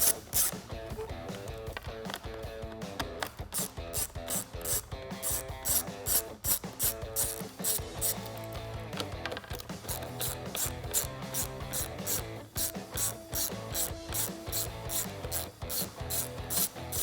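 A 1/4-inch drive ratchet with a 5.5mm socket clicks steadily and up close while backing out screws that hold the air vents in a Jeep Wrangler JL dashboard, its rapid pawl ticks running almost nonstop.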